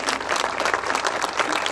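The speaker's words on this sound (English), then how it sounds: "So round of applause, please." A crowd claps steadily in dense, continuous applause filling the room, with no voices over it.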